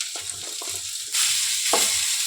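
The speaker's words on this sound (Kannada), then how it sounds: "ಈಗ ಹಾಗಲಕಾಯಿನ ಹಾಕಿ ಅದ್ರಾಗೇನ ಆಡಿಸ್ಕೊಂತೀವಿ" Bitter gourd stirred into frying onions in a pan, giving a steady sizzle with a few scraping stirs that swell into a louder hiss partway through.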